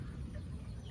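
Chickens cluck in a coop that has stood over seven years, a dense, continuous low murmur of many birds close by with no clear gaps.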